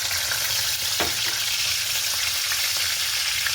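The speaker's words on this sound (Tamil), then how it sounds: "முதல் உள்ளியை போட்டு வதக்க போகிறோம்" Garlic sautéing in a hot pan that was heating with coconut, ahead of onions being added, gives a steady close sizzle and frying crackle throughout, with a few soft stirring clinks and no talk.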